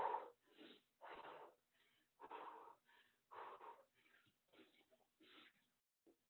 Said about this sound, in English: Slow your breathing.